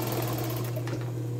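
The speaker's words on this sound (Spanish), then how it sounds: "Ahora voy a proceder a montar acá en la máquina recta el encaje." A straight-stitch sewing machine runs steadily while sewing embroidered lace onto underwear, giving a continuous close mechanical whir with a rapid needle rhythm and no talking.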